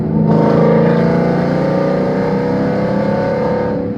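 A Stage 3 supercharged W204 Mercedes C63 AMG engine roars loudly and steadily up close, downshifting and revving hard under acceleration with a strong droning growl that eases slightly at the end.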